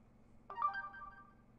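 A Droid X phone plays its default notification ringtone, a single short, faint chime-like tone that rings out briefly in a quiet room.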